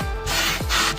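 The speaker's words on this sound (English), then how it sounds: "take my little brush, really scrub it in" A small brush scrubs the interior upholstery of a 30-year-old BMW with close, steady, loud rubbing strokes, giving a continuous abrasive swish across the short clip.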